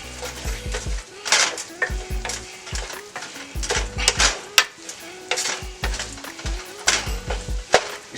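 Flour is scraped and stirred into a roux in a pot as the thickener for a gator tail and rice dish, with repeated scraping strokes over a light sizzle and a steady tonal backing.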